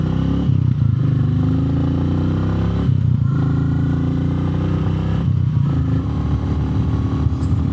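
Royal Enfield motorcycle ridden at higher speed on Bridgestone tires, a loud continuous engine drone with brief dips, mixed with wind and road rumble.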